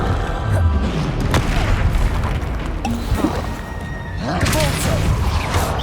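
A Confringo blasting spell in Hogwarts Legacy lets out a deep, loud boom with a crackling burst, followed by rumbling debris and a second swell of blast noise, with a voice casting spells amid the action.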